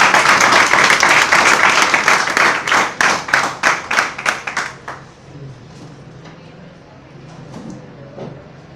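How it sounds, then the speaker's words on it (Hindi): An audience at a business seminar claps loudly in unison, first as dense applause, then settling into a run of synchronized rhythmic claps that fade out around five seconds, followed by quieter room noise and faint talk. "एक बार सर के लिए जोरदार ताली"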